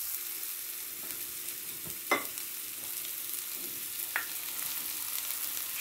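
Shrimp frying in a pan for a shrimp and noodles dish, giving a steady soft sizzle with a couple of sharp clicks of a utensil against the pan, and no talk.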